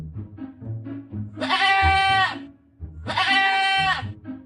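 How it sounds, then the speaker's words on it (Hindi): A flock of sheep bleats in two long, loud, wavering calls, separated by a brief pause, over a low murmur of background animal noise. "यूं आवाज देते हुए एक भेड़ों की झुंड जा रही थी।"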